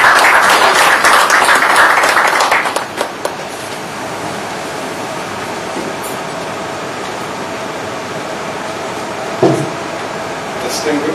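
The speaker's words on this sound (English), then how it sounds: "Please, a round of applause." A hall audience at a business awards ceremony claps for the CEO of the Nigerian Stock Exchange before a keynote. A dense burst of applause lasts a couple of seconds, then fades into quieter room noise with a few faint stray sounds.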